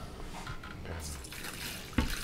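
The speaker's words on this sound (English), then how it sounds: "Then I'm just gonna cover that with water." Water streams over chicken soup ingredients in a pot, a fairly quiet, continuous pouring wash with shifting splashy texture and a brief knock near the end.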